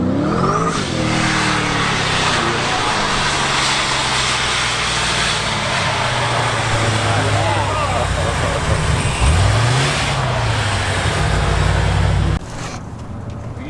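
A Pontiac WS6 Trans Am with an 800 hp engine roars loudly and continuously from inside the car during a ride along, revving up and down with traffic noise around it before dropping off abruptly near the end.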